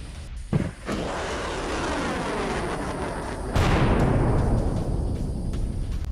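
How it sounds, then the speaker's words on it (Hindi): A rushing, roaring noise builds, then a sudden loud blast erupts partway through as a Patriot missile explodes in the air seconds after launch, followed by a sustained broad rumble that slowly fades. "लॉन्च होने के कुछ सेकंड बाद ही हो गया ये बड़ा धमाका।"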